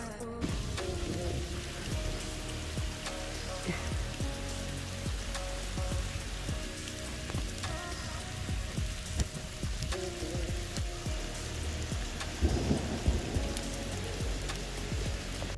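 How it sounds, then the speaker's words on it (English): Intense rain from a thunderstorm on the Appalachian Trail pours steadily and close, drumming on a nearby surface with a dense patter throughout and a faint low rumble underneath. "this is a perfect convergence of being exposed and these intense thunderstorms coming through"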